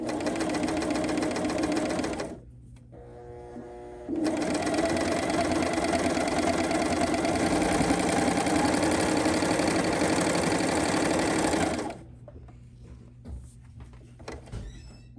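A cover stitch machine sewing a shirt hem runs in steady, fast bursts, a short pause near the start, then a long continuous stretch before stopping and faint handling noises.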